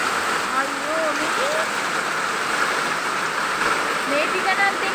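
Steady rain falls in a constant broadband wash that fills the scene, while a voice sounds faintly in the background.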